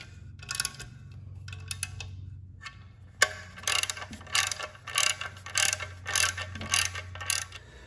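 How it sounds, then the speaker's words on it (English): A ratchet with an 8mm socket clicks rapidly while tightening bolts during a turbo and exhaust manifold install on a Fiat 500 Abarth, several close bursts of ticking separated by short pauses. "then tighten these 2 bolts with an 8mm socket"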